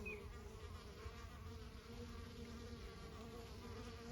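Honey bees fly and buzz at a hive entrance as foragers return with pollen, a steady continuous hum of many insects close by with no talking.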